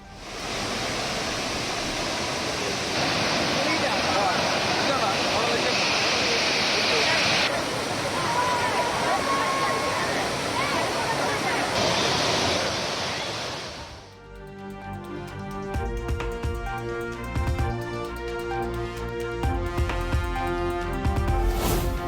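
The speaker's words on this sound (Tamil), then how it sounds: "கோதையாற்றில் நீர்வரத்து அதிகரிப்பால் திருப்பரப்பு அருவியில் கடும் வெள்ளப்பெருக்கு." Flooded Thirparappu waterfall on the Kothaiyar river after heavy rain, a loud steady roar of rushing water for most of the stretch, then cut off and replaced by music.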